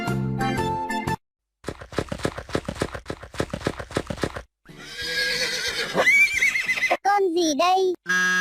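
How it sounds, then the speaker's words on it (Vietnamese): A horse whinnies loudly in a children's animal-sounds lesson, preceded by a run of rhythmic hoof clip-clops, with a voice speaking briefly at the start. "Con ngựa."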